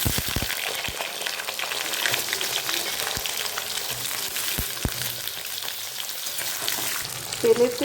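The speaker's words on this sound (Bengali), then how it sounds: "তেলেতে কালো জিরে আর কাঁচা লঙ্কা ফোড়ন দিয়ে প্রথমে আলুগুলোকে ভেজে নেব" Potatoes fry in oil tempered with nigella seeds and green chillies, a continuous close sizzle broken by scattered sharp pops and spatters.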